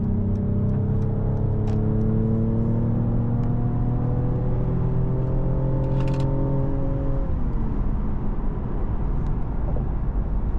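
A white car with black rims and accents is driven, its engine giving a steady, close droning hum with slowly shifting pitch that holds throughout, with no talking.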